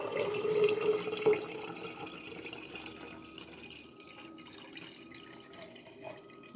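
About a liter of water is poured into a container, a soft splashing and trickling stream that tapers off into faint drips and quiet room sound.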